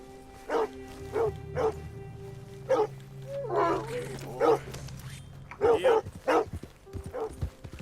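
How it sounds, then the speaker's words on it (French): A dog attacks the player in Red Dead Redemption 2, barking and yipping in short bursts spread through the scene, close and loud, over a low steady game background with faint hoof clip-clop. "Et le chien nous attaque."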